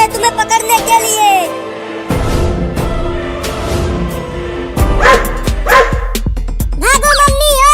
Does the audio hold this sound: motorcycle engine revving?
no